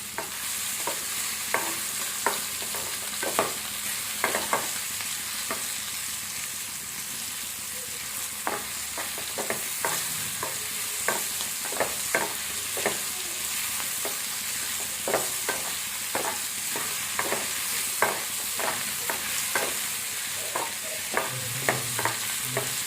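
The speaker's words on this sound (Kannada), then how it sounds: "ಅದೇ 5 ನಿಮಿಷ ಫ್ರೈ ಆದಮೇಲೆ ಈ ಥರ ಎಲ್ಲ ನೀಟಾಗಿ ಫ್ರೈ ಆಗಿದೆ" Green tomato chutney, North Karnataka style, frying in a pan under a steady hiss, with regular scraping strokes of a spatula stirring it, close and even, no speech.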